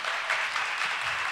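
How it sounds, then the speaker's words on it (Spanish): Audience applause at the Miss Teen Mundial 2022 pageant, a short, dense wash of clapping that stays steady and fairly loud throughout, with no voices above it. "Recibámoslo con un fuerte aplauso"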